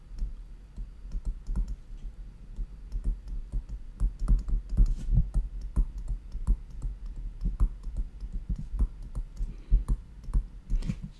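Steady typing on a computer keyboard, close up, with a continuous patter of sharp key clicks that comes in short bursts and brief pauses for about eleven seconds, with no voices.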